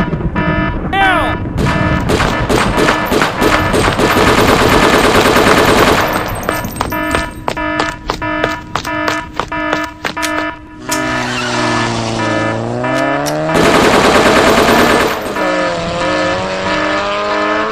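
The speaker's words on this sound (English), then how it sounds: "Gunfire! Gunfire! Gunfire! Gunfire! Gunfire!" Gunfire and machine-gun shots in a dramatic FBI confrontation scene: loud, rapid bursts of shots come in long volleys, broken by short pauses, with whining, engine-like tones in between.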